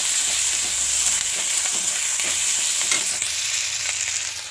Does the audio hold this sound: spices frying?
yes